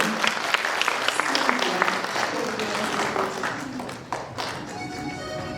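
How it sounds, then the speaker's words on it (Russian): Applause from a gala concert audience in Novosibirsk, a brisk patter of distinct hand claps that gradually thins out and tapers off, moderately loud. "Аплодисменты!"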